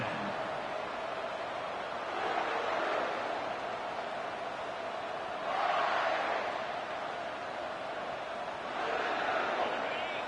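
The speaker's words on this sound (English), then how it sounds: "Listen to the crowd energy here in the early going." Simulated stadium crowd in the College Football 25 video game during a Miami versus Kentucky matchup, a broad steady roar that swells into louder surges around the third, sixth and ninth seconds.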